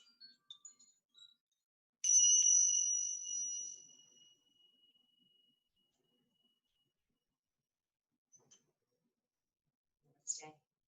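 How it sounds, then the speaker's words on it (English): Koshi chimes ring out in one bright sustained tone that slowly fades, following a few short soft taps, with a faint later chime stroke near the end. "We're going to close this out with some soothing koshi chimes."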